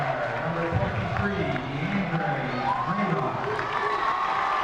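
Crowd noise at a high school boys' basketball game between Moline and Rock Island, a continuous busy din of cheering and shouting in a gym, with voices and shoe squeaks mixed in.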